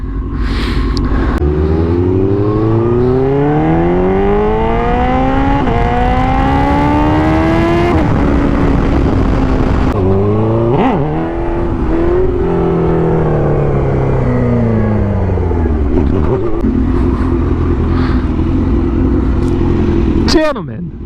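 A turbo hatchback's engine revs loud and close again and again, its pitch sweeping up and down, while people talk over it.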